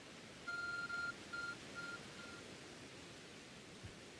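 A short run of electronic phone beeps in Pokémon Legends: Arceus, a few quick tones in a row that fade and thin out, over a soft steady background hiss.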